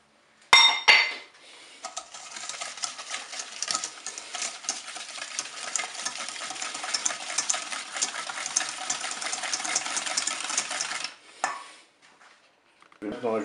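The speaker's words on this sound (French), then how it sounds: "On va commencer par battre le beurre avec le sucre." Butter and sugar are beaten in a bowl, giving a steady scraping, clinking whir for about ten seconds after a sharp knock at the start, with no voice over it.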